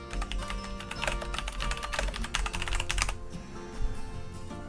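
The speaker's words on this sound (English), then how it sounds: "I'm going to type my super secret code" Rapid, irregular clicking of fingers typing a password on a computer keyboard, close and fairly quiet, with the keystrokes thinning out near the end.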